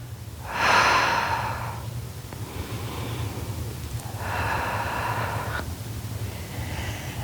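Slow, deep breaths during a Pilates hamstring stretch, two long airy inhale-exhale cycles close to the mic over a steady low hum, with no talking.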